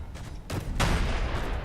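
Gunfire in the Space Engineers video game: two quick bursts of shots crack out close together, followed by a sustained rattling volley, fairly loud with no speech.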